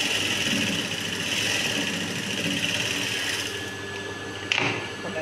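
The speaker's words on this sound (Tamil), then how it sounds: "கட் பண்ணிவிட்டு ஒரு படிமான தையல் போடுங்க." Sewing machine stitching blouse fabric, a steady close mechanical whir running continuously for several seconds, ending with a brief sharp click, with no talking.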